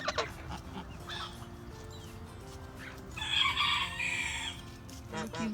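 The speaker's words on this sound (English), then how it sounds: "There's my 3 roosters." Silkie roosters crow on a farm, several drawn-out cock-a-doodle-doo calls sounding close by, one louder crow in the middle, alongside hen clucks and other fowl chatter.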